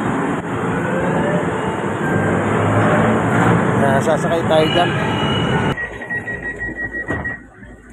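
An LRT light rail train pulls into a station with a loud, steady rumble and rising rail noise that cuts off sharply near the end, leaving a fading hum while a person briefly speaks.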